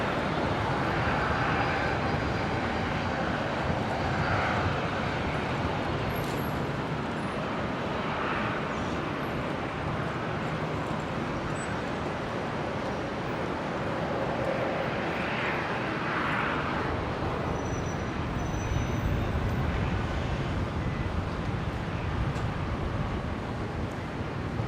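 Jetstar Airbus A320 jet at Brisbane International Airport, a long, continuous engine rumble and roar at steady loudness with slight swells, no talking over it.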